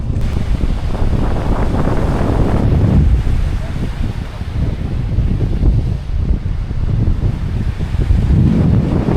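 Strong wind roars and buffets the microphone continuously, swelling in gusts throughout with no clear voices, heard while cycling along a road in Lithuania.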